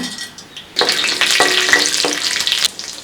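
Bright, crackling sizzle of a spoonful of chana dal dropped into hot oil, starting abruptly and continuing steadily with small pops and stirring scrapes.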